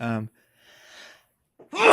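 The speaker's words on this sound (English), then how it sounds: "I think I'm going to sneeze" A single sharp sneeze bursts out near the end, preceded by a voiced sound and a soft breathy intake with a brief pause.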